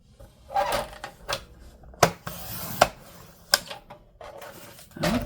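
A paper cutter slices paper sheets for a handmade fall gratitude journal, giving a handful of sharp, close clacks and swishes spaced irregularly across a quiet room.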